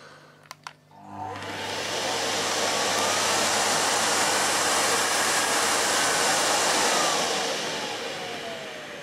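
A Miele Revolution 500 S556 vacuum cleaner with a fault clicks twice, then its motor spins up into a loud, steady, close roar that holds for several seconds before easing off slightly.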